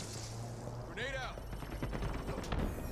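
Video-game rifle fire in rapid bursts cuts through a busy match, with sharp repeated cracks and a voice talking over the action.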